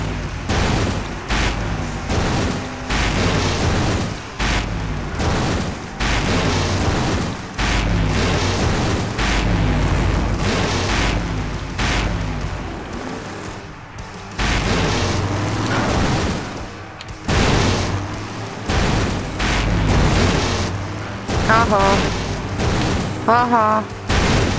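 Heavy booms and rumbling blasts from an explosion in the adventure game Full Throttle Remastered roll on through a long, loud stretch, with someone talking over the noise.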